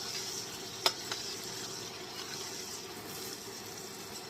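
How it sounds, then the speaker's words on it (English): A stick of butter melting in a pan for shrimp gives a faint, steady sizzle, with a couple of small clicks near the start. "we have our butter, 1 stick of butter melting for the shrimp"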